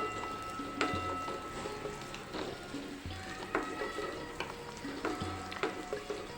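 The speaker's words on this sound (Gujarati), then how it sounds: "આ ડુંગળીને આપણે તેલમાં સાતળી લેવાની છે" Onions cut into large pieces sizzle in hot oil for a paneer curry, a steady low frying hiss broken by a few sharp stirring clicks and scrapes of a spoon in the pan.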